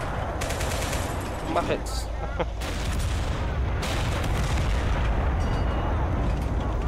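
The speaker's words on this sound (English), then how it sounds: "Why are you shooting at me? It's a tank." Gunfire from a tank battle in the video game Total Conflict Resistance, with repeated shots and booming blasts over a steady rumble of battle noise while a voice talks briefly.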